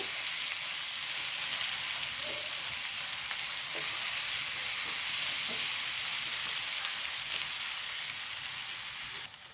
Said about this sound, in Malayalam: നല്ലോണം ഒന്ന് വഴറ്റിയതിന് ശേഷം ഒന്ന് ചെറുതായിട്ട് മൊരിയണേ